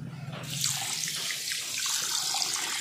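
Water poured onto sugar in a pot to make jalebi syrup, a steady close rushing splash after a brief quieter start, continuous to the end with no voices.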